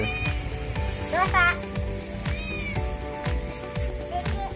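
A pet cat gives several rising meows indoors, near and fairly loud, mixed with a voice and background chatter.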